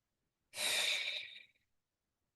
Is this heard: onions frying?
no